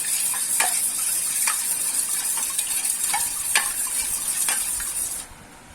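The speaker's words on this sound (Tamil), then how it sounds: "ஓகே, எக்கை நல்லா அடித்து விட்டாச்சு" Eggs being beaten in a bowl for a potato and egg snack batter, a steady scraping whisk with repeated sharp strokes roughly every second, close and continuous, ending abruptly near the close.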